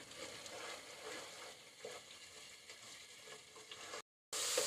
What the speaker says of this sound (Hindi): थोड़ी सी आंच बढ़ाते हुए मैं इसे थोड़ा सा भून लेती हूँ